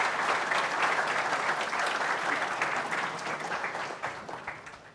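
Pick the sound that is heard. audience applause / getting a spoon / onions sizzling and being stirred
audience applause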